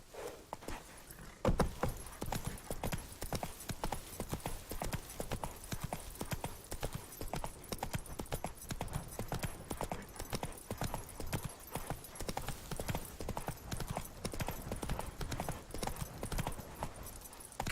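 Roach, a horse in The Witcher 3 Next Gen Complete Edition on PC, trots along with steady, rhythmic hoof clip-clops close by, continuing at an even pace throughout with a brief snort or whinny near the start.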